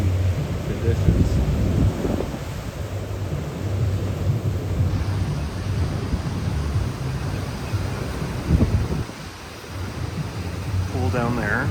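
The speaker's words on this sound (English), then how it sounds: "Enjoying what are some pretty windy conditions." Strong wind on a hotel terrace during a December trip in Philadelphia, steady roaring gusts buffeting the microphone throughout, with people talking faintly beneath.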